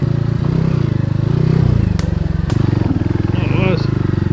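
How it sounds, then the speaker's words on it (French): A scrambler motorcycle engine throbs loudly and steadily up close as the bike slips through deep mud on a rough trail, with a couple of sharp knocks and a brief voice over the engine. "Parce que la moto elle a glissé"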